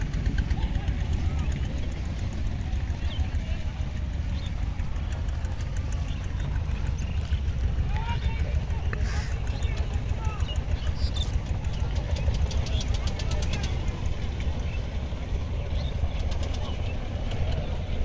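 A motorboat engine drones steadily and close for the whole stretch, a constant low rumble with a faint mechanical buzz and no break in its loudness.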